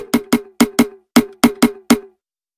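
Punchy processed percussion donks built from shaped, limited and distorted hits, eight short tonal bouncy knocks in a quick uneven rhythm, loud and dry with no voices.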